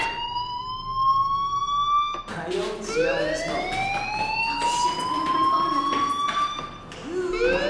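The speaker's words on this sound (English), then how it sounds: "Hey, do you hear that fire alarm?" An alarm sounds in the video game Life Is Strange, its loud, rising siren-like wails sweeping upward in overlapping waves from start to finish, after a brief steady tone.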